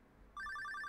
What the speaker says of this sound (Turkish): Telefon çalıyor, hiç umurumda değil.